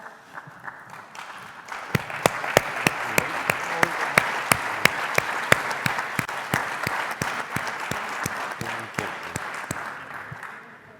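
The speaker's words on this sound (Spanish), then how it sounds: "esos aplausos le llegarán" Sustained audience applause in a conference hall during a plenary session on the Spanish language, steady dense clapping with sharp individual claps standing out, alone without talk for about eleven seconds.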